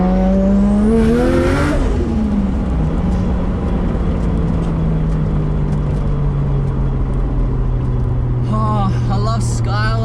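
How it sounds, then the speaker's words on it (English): Nissan Skyline R33 with an RB25 engine drives along, its steady engine drone rising briefly then holding a constant pitch throughout, loud and close. "I just love enjoying listening to my car."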